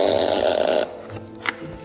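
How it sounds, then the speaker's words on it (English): A novelty toy piggy bank lets out a loud, buzzy fart noise for about a second as money goes in, then cuts off, followed by faint rustling and a brief soft tap. "Oh my God, it literally farts."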